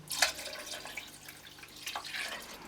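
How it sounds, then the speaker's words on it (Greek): Water poured into a cooking pot while making magiritsa, the Greek Easter soup, giving a soft, faint splashing and trickling that comes and goes over a few seconds with no voices. "Θα προσθέσουμε και άλλο τόσο νερό."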